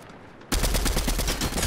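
Gunfire in a multiplayer video game, with an automatic weapon suddenly opening up after a quiet moment into a loud, rapid stream of shots that continues to the end.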